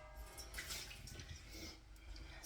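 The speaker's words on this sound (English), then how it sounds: "So I've got my bowl. Just going to rinse it." Water runs and splashes while a bowl is rinsed before sauce for tteokbokki is made, a faint, close trickling and sloshing that swells briefly at the end, with no talk.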